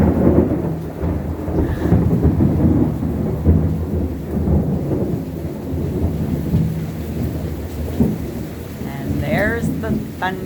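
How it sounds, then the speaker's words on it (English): Thunder rumbles deep and long during a thunderstorm in Boynton Beach, Florida, rolling continuously under steady rain, with a brief voice near the end. "And there's the thunder."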